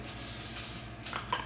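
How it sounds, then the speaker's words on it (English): Cooking spray hisses onto a chaffle maker in one steady close burst of about half a second, followed by a couple of short, lighter squirts. "So I'm spraying these out real good."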